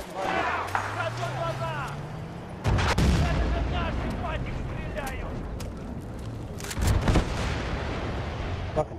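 Tank cannon fire in Battlefield: Bad Company 2, with heavy booming blasts that land twice, once early and again later, over constant battlefield noise and gunfire while players talk.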